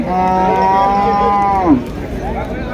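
A loud, close cow moo holds steady for over a second and then drops away, followed by quieter background noise, at a cattle market in Comilla with local cows and a Sindhi-Sahiwal cross calf.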